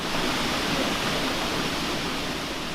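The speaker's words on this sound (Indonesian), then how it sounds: "salah satunya adalah air terjun Waitayas ini" The Waitayas waterfall in Sukaraja village, Indonesia, roars steadily as a broad, constant wash of rushing water. The sound is loud and unbroken, with no voices.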